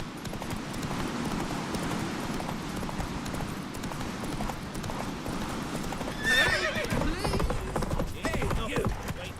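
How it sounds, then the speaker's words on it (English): A horse gallops in The Witcher 3, its hooves pounding in a fast, steady rhythm close by, with a brief whinny partway through over a rushing background. "Come on, Roach"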